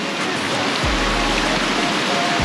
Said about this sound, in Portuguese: Ali é a corredeira principal.